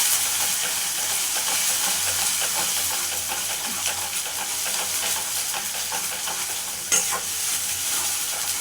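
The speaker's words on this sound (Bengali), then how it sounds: "মশলা ভালোভাবে কষানো হয়ে গেছে" Spice masala for a soybean dish stir-fries in a pan with a bright continuous sizzle and hiss, frequent scraping stirs and a sharp clink near the end, with no one talking.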